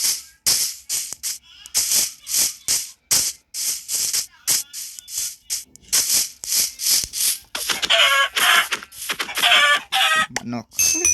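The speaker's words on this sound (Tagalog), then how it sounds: "Manok." Minecraft chickens cluck in short, sharp bursts in quick succession, fairly close and loud, with a brief stretch of busier game noise near the end and a player's voice now and then.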